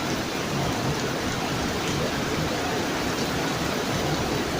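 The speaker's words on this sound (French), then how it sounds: "mais là, pour le coup, là, ça pleut beaucoup" Heavy tropical rain pours steadily in French Guiana during the dry season, a dense, even hiss of water on surfaces that fills the space without a break and with no voices.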